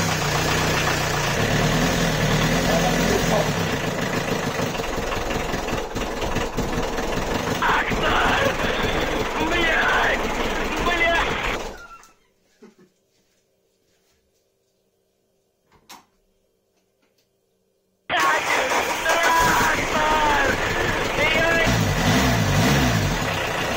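A VW Golf 2 diesel engine, abandoned for seven years and with a freshly changed fuel filter, runs loud and close with rough clattering, cuts out into near silence with faint knocks, then restarts and runs again.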